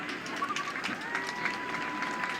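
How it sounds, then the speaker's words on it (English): Crowd applauding a senior goalkeeper at a college men's soccer match at Southfield, steady clapping spread evenly across the stands with a bird chirping faintly over it. "The crowd here at Southfield with a nice applause for the BYU senior goalie"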